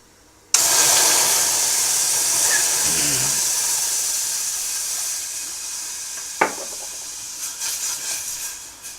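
Milk poured into a pan of sautéed maida flour for alfredo sauce bursts into a sudden loud hiss that holds steady and slowly fades, with one brief clink partway through.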